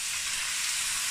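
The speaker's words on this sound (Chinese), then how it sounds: "给它翻炒均匀" Chicken stir-fried in a wok with soy sauce and a little sugar, a steady close sizzle with no talking.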